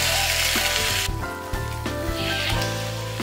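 Bread slices dipped in batter sizzle on a hot tawa as Bombay toast fries, a steady close hiss with a faint tonal background running underneath.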